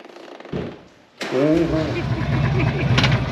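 A Harley-Davidson Street Glide motorcycle engine cranks briefly, then catches and settles into a steady, close rumble, with people talking over it.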